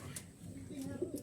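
Soft, low pigeon cooing murmurs through a short stretch, partly blended with faint background voices.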